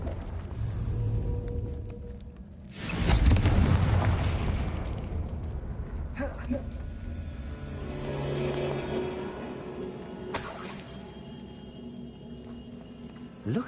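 A Confringo fire-blast spell in Hogwarts Legacy erupts as a deep, loud boom with rumbling aftermath, followed by softer rumbles and a second burst later on.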